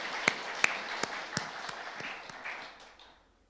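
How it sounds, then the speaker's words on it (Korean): A church congregation applauds during a Sunday worship service, a scattered round of claps with a few sharp, distinct hits that thins out and fades to near silence by the end. "고생하셨다고 우리 박수 한번 하도록 하겠습니다"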